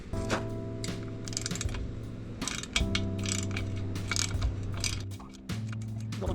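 A ratchet wrench works a bolt loose on the lower unit of a Yamaha F90 or F115 outboard motor, giving quick runs of clicking ratchet pawl over a steady low mechanical hum, close and clear.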